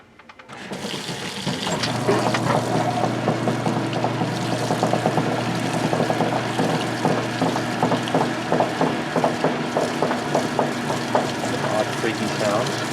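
A Whirlpool direct drive washing machine on its spray rinse gives a continuous rushing spray of water with odd creaks and faint rhythmic knocks, loud and close, starting abruptly and holding steady throughout.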